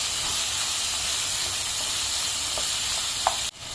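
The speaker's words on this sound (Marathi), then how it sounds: "कांदा मऊ होईपर्यंत आपल्याला हे सगळं परतून घ्यायचं" Onion and tomato sauté in a pan with a steady, loud sizzling hiss that stays constant throughout, ending with a brief clatter and a sudden drop in the sizzle near the end.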